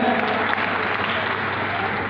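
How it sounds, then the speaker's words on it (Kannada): A stage audience at a golden jubilee celebration in Mysuru claps loudly and densely, a sustained wash of applause filling the whole moment. "ಬನ್ನಿ ಒಂದ್ಸರಿ ಜೋರಾದ ಚಪ್ಪಾಳೆ"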